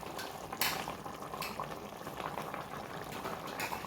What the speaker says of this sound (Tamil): தண்ணி இது சூடாகிட்டோடனே நம்ம வந்து அரிசி போட்டுக்கலாம்.